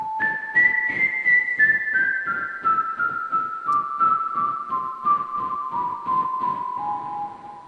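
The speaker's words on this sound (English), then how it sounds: "So these are the whistles." A person whistles a slow descending melody of sustained notes, clear and close, recorded on an iPhone, with soft breathy pulses underneath, no talking.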